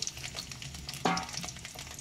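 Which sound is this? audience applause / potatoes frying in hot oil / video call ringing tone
potatoes frying in hot oil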